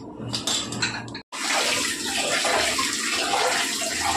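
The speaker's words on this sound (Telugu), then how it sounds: "బియ్యం కడిగేస్తాను." Rice being washed in water, with a steady rush and slosh of running water that briefly cuts out and then resumes, close and loud, with no talk.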